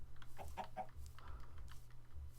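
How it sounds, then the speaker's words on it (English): A Minecraft chicken gives a few short clucks, quiet in game audio with a steady low hum underneath, alongside faint keyboard tapping. "Oh, it's a chicken."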